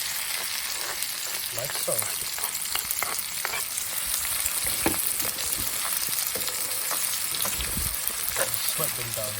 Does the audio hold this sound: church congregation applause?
no